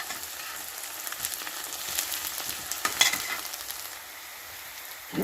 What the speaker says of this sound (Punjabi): ਪਿਆਜ਼ ਫਰਾਈ ਹੋ ਚੁੱਕੇ ਦੇਖੋ ਥੋੜੇ ਜਿਹਾ ਹੋਰ ਇਹਨਾਂ ਨੂੰ ਬਰਾਊਨ ਕਰਾਂਗੇ